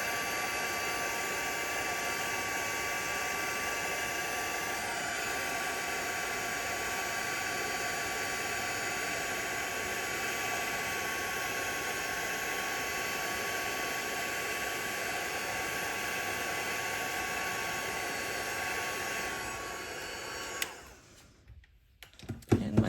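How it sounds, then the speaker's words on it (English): Heat embossing tool blowing hot air onto a stamped card, a loud, steady whooshing hum that runs unbroken for most of the stretch before cutting off near the end with a few faint handling clicks. "get my heating tool, which I've allowed to warm up"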